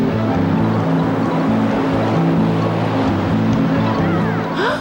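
An RNLI inshore lifeboat heads out from Poole toward two children in an inflatable dinghy, its outboard engine humming loud and steady over rushing water and wind, with a harsh hiss near the end.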